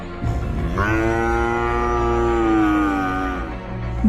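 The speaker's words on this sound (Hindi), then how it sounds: "बंधी हुई 3 गाय बाघ को देखकर जोर जोर से रंभाने लगती है।" In a Hindi cartoon, tethered cows moo loudly at the sight of a tiger, one long drawn-out low call held for several seconds over a steady background.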